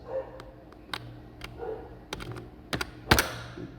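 Keys are pressed on a computer keyboard during an MS-DOS installation, a few sparse, sharp clicks ending in a louder clack near the end, close by in a quiet room.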